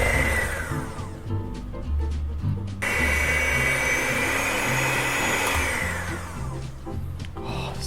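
Electric mixer beating vegan peanut ginger sesame cookie dough made with sugar, soy milk, almond and vanilla extract, a loud continuous whirring with a brief dip in pitch partway through.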